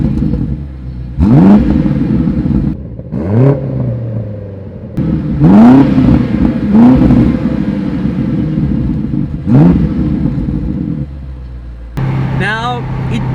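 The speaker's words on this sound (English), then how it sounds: "I'm going to slow down to 2nd, even 1st, and we're going to give it a pull." A 2020 BMW X6M Competition V8 engine revs hard through repeated pulls in low gear, rising in pitch with each acceleration and dropping between shifts, loud and rumbling up close.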